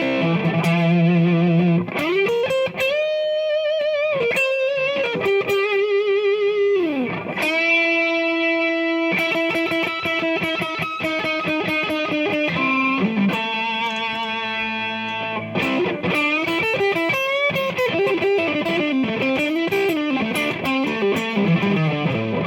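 Distorted electric guitar plays through a Hughes & Kettner Black Spirit 200 Floor with its boost engaged, loud and upfront. Sustained chords and bent notes alternate with quick choppy riffs and runs, with no talking.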